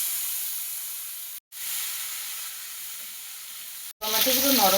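Chopped tomatoes hit hot oil with black cumin seeds in a wok while a mustard fish curry is being cooked, a loud continuous sizzle and hiss broken by two brief gaps, then a voice begins at the end.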